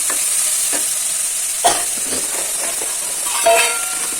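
Onions frying in a pan for chicken fry, a steady bright sizzle throughout with a few louder scraping stirs around the middle and near the end, close and clear with no talking.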